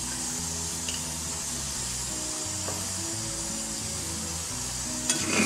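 Ground spices such as cumin, pepper, garam masala and coriander powder sizzle and fry in a pan for Pakistani-style karahi chicken while being stirred, a steady close crackle with occasional scraping.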